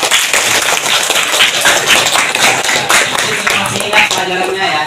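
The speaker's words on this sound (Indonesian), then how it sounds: "Ya, tepuk tangan." A middle school class in Samarinda applauding, a dense, continuous patter of many hands clapping at close range, loud and steady across the whole stretch.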